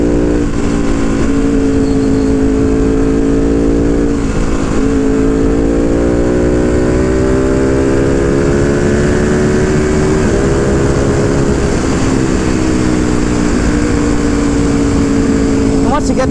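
A Ducati Panigale V2 sport bike leans through a corner, its engine a loud, continuous drone whose pitch rises and dips steadily with throttle, wind rushing throughout; a rider talks over it.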